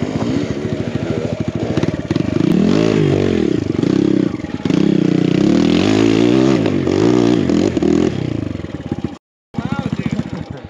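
A BBR KLX170RF dirt bike climbing a big hill on an enduro trail, its engine droning loud and steady with rising and falling revs, briefly cutting out near the end before picking back up.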